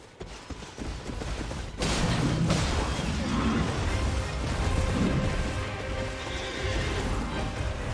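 A horse neighs loudly in Elden Ring, then hooves pound in a fast gallop with a low booming rumble, close and continuous after a brief quieter opening.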